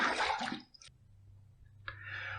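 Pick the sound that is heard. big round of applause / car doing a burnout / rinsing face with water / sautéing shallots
rinsing face with water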